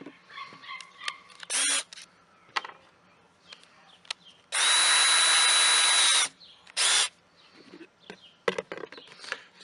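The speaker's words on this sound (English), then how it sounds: "So now I'll just drill the holes." An electric drill bores a series of holes around the rim of a simple bee feeder, whining loudly in short bursts with one long steady run, close by, with small handling clicks and knocks between.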